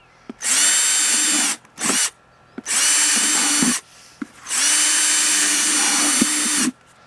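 A power drill whirs in three bursts as it bores holes into a plastic container used for a tomato watering tray; the first burst is short and the other two run longer, with the motor cutting off sharply between them.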